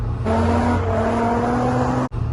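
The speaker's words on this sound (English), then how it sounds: "The car's driving well." A Holden VY Calais V6 drift car drives with a loud, steady engine drone held at an even pitch, close to the microphone, before the sound cuts off abruptly near the end.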